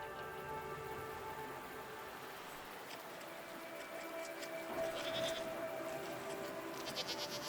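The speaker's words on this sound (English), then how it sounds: "What are these strange goat-like creatures? Are they simply goats?" Goat-like creatures bleat faintly in a PC video game, with a few soft calls heard over steady quiet ambience resembling light rain.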